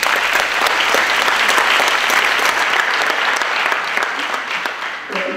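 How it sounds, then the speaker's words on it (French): Audience applause for the jury at the closing night of a film festival, dense sustained clapping from a large crowd that fades slightly toward the end. "Je pense qu'on peut même les applaudir s'il vous plaît"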